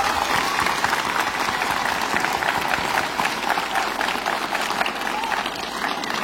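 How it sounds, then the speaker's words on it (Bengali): Loud, dense applause from a school audience for the children at an annual function parade, steady clapping filling the whole stretch with crowd noise mixed in. "এখন আসুন আমরা সমস্ত বাচ্চাদের জন্য জোরে হাততালি দিই"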